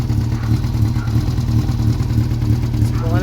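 A Kawasaki ZZR400 motorcycle engine under repair runs steadily, loud and close, with a constant low throbbing idle and light mechanical clatter throughout.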